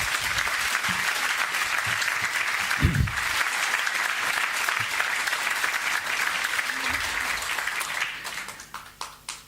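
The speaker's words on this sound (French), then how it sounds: "Je vous remercie de les applaudir." Applause from an audience at a 2018 conference, sustained and full from the start with a few louder claps and faint voices mixed in, then thinning out and fading to scattered claps near the end.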